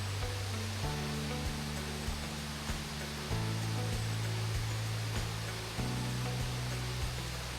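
A jungle stream flowing at Sudagala, a steady broadband rush of water filling the whole clip at constant level, with a continuous background hum beneath.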